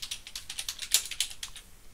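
Quick keystrokes tap out a short run on a computer keyboard, close and clear, in a steady light rhythm that goes on for about two seconds with no voices.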